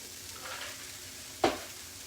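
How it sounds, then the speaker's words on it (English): Chicken pot pie filling stirred in a skillet to warm it, a faint low sizzle under a soft scraping stir, with one short louder scrape or clink near the end. "It just takes 2 or 3 minutes stirring those around in the skillet to get them warm enough."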